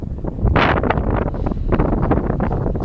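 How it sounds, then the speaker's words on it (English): Strong wind buffets the microphone at Clifton Harbour on Union Island, a constant loud roaring rumble with gusty surges and rustle, no voices. "The wind is fairly strong"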